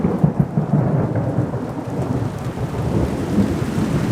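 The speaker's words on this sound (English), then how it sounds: "Hectic thunder and lightning." Heavy rain pours down steadily during a night thunderstorm, with a continuous low rumble of thunder rolling beneath the downpour, loud and close throughout, no voices.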